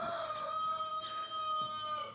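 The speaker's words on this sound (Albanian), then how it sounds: "Çka thojnë kur këndon gjeli," A rooster crows with a long, drawn-out call at a rural village homestead, the tone strong and close, carrying clearly across the whole stretch with no talk over it.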